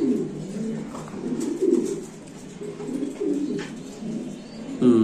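Grizzle dragon pigeons coo in soft, repeated low rolling calls at close range, several birds overlapping in a loft with no talking.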